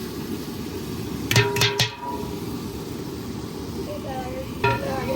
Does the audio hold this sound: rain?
no